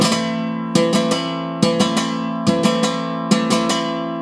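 Flamenco guitar strumming in a sevillanas rhythm, crisp repeated rasgueado strokes in groups with strong, punchy accents, played alone.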